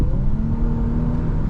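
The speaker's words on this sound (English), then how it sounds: "Honestly, yeah, this is a pretty enjoyable car to drive." A 2024 Infiniti Q50 Luxe accelerating, its engine note rising in a smooth whirring hum over low road rumble, heard from inside the car for a brief stretch.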